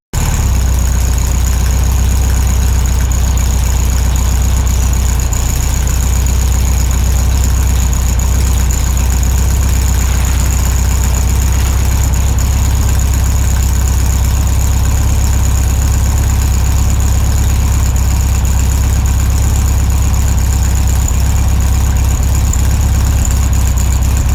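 A 1964 VW Beetle engine drones loudly and continuously from inside the car while driving, a heavy low rumble with a steady high whine across the whole stretch and no voices.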